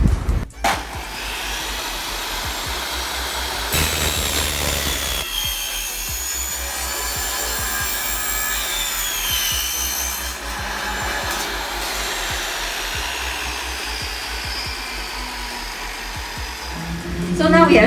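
A power saw cuts through an aluminum frame for a sign lightbox, a loud continuous whining grind holding steady for most of the stretch, with brief dips and knocks where the blade starts and the cut shifts.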